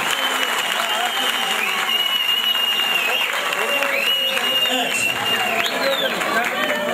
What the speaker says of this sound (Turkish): Alkışlar onlara gitsin efendim